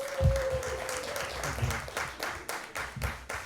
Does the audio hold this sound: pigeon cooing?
no